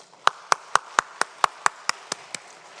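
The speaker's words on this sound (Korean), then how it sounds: "우리 다시 한번 박수 주시기 바랍니다." About ten sharp hand claps in a steady, evenly spaced rhythm from a church congregation, crisp and fairly close with short pauses between beats, then fading out.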